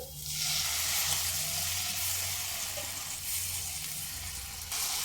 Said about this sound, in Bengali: মশলাটা খুব ভালোভাবে একটু কষিয়ে নেবো